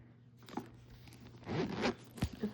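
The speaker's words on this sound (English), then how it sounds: "And then it's got that little zipper right here for this type." Little zipper on a wallet pulled open and shut in short, close scratchy bursts, quiet and alone with no talk over it.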